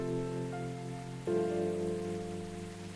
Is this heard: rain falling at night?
yes